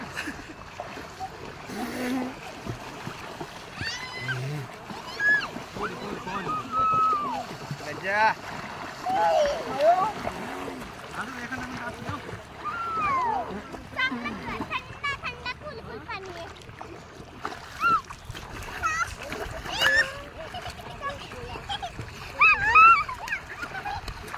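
Children splash and swim in the water at Veer dam, with intermittent splashes and laps of water under the excited chatter and shouts of kids and adults.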